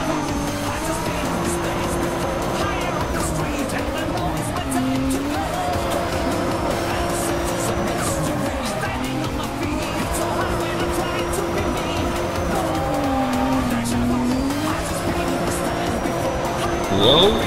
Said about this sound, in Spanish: qué genial suena el motor del Nissan, con todo mejorado ya se escucha imponente